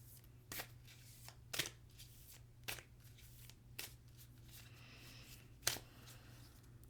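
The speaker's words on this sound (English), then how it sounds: "that's why I keep shuffling" Oracle cards are shuffled quietly, giving a handful of soft, widely spaced snaps and riffles over a low steady hum in a calm indoor room.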